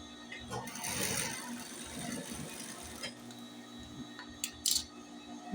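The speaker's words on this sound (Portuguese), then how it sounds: "Eu dobro e vou costurar aqui, ó, meio pezinho de máquina." A sewing machine runs half a presser-foot width of stitching along folded fabric for a fabric insert, a soft mechanical whir under a woman's speech, ending in a few sharp clicks.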